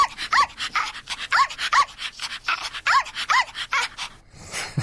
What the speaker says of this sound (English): harmony with a silly little yappy dog.